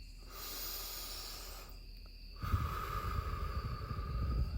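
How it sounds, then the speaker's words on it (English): A slow deep breath, drawn in softly and then let out more heavily and audibly, close and quiet against a faint steady background hiss. "Another deep breath."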